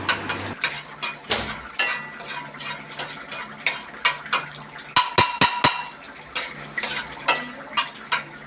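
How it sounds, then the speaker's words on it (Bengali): Mustard seeds roast in a wok that was used for frying pointed gourd, stirred in steady rhythmic scraping strokes about twice a second, with a brief burst of quicker, sharper scrapes in the middle. "সেই কড়াইতে আমি সামান্য সরিষা টেলে দিয়ে দিচ্ছি।"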